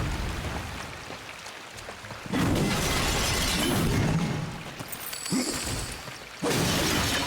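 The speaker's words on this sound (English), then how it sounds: "smashing pots are also going to be generally a good idea for us" Pots smash in the video game Darksiders 2 as loud bursts of shattering crockery, several breaks in a row with crashing, rattling debris, set against ongoing game ambience and whooshes.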